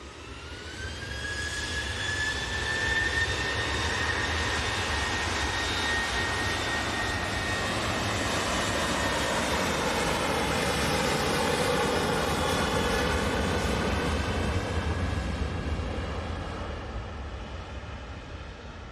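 A jet airliner roars at Manchester Airport, a loud sustained engine rumble with a rising whine that swells in and slowly fades as it passes close by, with no voices.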